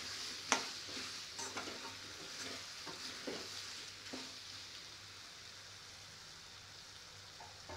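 Potato fry is stirred and turned in a pan: a few soft scraping strokes early on over a low, quiet sizzle that continues gently once the stirring stops.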